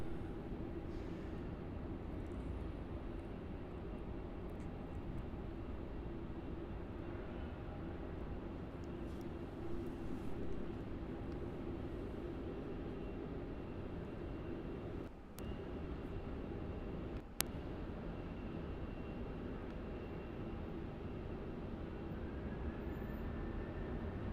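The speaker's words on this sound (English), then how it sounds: "there is the Qantas 787 operating as QF9, and that is going to be departing off to Perth and then on to London" A Qantas Boeing 787 jet at Melbourne Airport gives a steady, distant low engine rumble that holds even throughout, with a couple of brief faint clicks and no talking.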